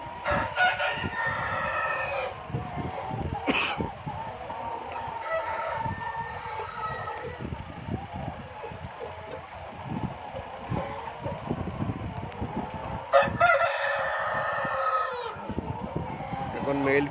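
Roosters on a poultry farm crow loudly twice, with clucking and general hen-house chatter in between and some people talking in the background.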